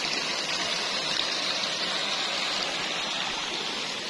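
A flooded farm stream rushes strongly past, producing a steady, dense roar of water that stays constant and fairly close with no other sounds.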